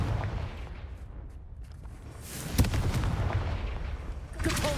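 A Confringo fire spell bursts in Hogwarts Legacy, a booming explosive blast with a sharp crack and rumbling tail, loud amid ongoing game combat noise.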